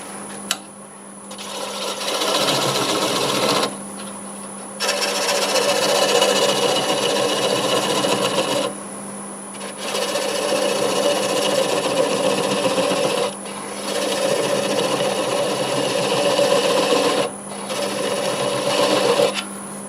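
A wood lathe spins a piece of sweet gum while a spindle gouge shaves it, giving a steady close scraping rasp over a constant motor hum, broken by several brief pauses as the tool lifts away.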